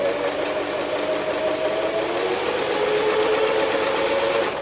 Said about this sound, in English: We put our foot on the pedal and start sewing.